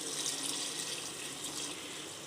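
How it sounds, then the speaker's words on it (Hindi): Water pours into a cooking pan of fenugreek and potatoes for aloo methi, a steady splashing stream running close and fairly soft with no speech. "इसके अंदर अब मैं ऐड कर रही हूँ पानी"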